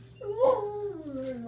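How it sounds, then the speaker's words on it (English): A dog gives a single close, rising and falling whimpering whine lasting about a second, with a tense, grumbly edge. "My dog should get so grumpy when somebody's outside."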